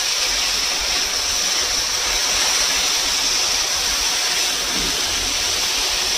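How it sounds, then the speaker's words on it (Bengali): Water pouring steadily into a pan for chalta chutney, a continuous rushing splash close by with no pauses and no talk. "দেবো এটাতে পরিমাণ মতো জল।"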